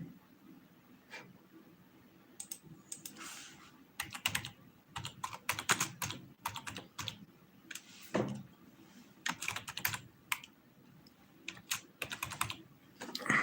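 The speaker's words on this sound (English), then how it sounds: "Not used to typing on this keyboard on this computer." Someone types on a computer keyboard, close up, in irregular bursts of crisp keystrokes separated by short pauses, with no talking.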